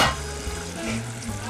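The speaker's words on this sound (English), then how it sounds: "You need to stir it now. Yeah, it's frying." Steady sizzling of Egbo stew frying in a pan, with a low background hum and occasional soft scraping as it is stirred; no voices.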